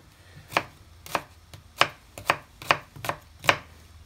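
A kitchen knife chops onions on a board with about eight crisp, fairly quiet chops at an uneven, unhurried pace.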